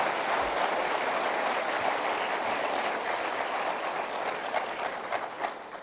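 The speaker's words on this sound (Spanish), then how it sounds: "Denle un aplauso." A church congregation applauds during a sermon, a steady wash of clapping that stays dense and even for several seconds before thinning slightly at the end.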